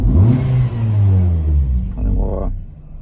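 Car engine revved in a workshop during an ignition scope test, a close throaty rise in pitch that holds, then falls back toward idle, alone without talk.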